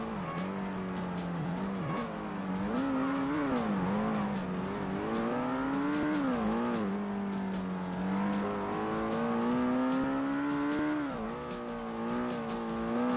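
In the Ford Racing video game, a Ford GT90 engine drones continuously at high revs, its pitch rising and dipping with gear changes and throttle, with faint tire squeal mixed in.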